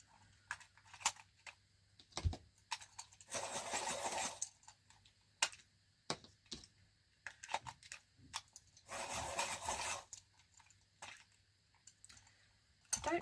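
Colored pencils, a dark red and a deep scarlet red, are sharpened in two rasping, grinding bursts, each about a second long, with quiet clicks and taps of handling between them and no talking.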